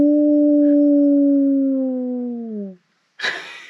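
A person imitates a dingo with a long, loud howl that holds its pitch, then slowly slides downward and fades out. A brief silence follows, then a short breathy burst.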